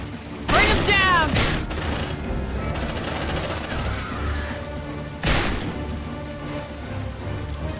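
Sustained gunfire from squad weapons in the sci-fi game Aliens: Dark Descent, a dense, crackling rattle of rapid shots with louder bursts near the start and again later, under occasional shouted voices.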